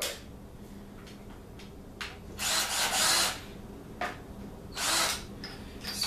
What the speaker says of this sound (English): Brand new drill, by the way.